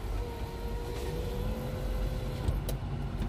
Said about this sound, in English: Truck's going by.